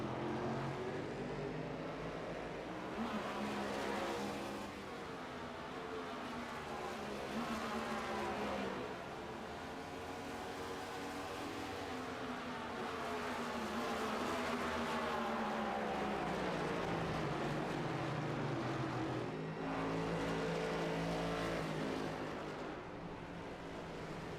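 Race car engines in the iRacing video game at Suzuka, a steady loud drone with rising and falling pitch as a car downshifts and slows, continuous throughout with overlapping engine tones.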